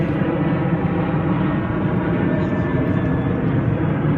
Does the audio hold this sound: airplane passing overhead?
yes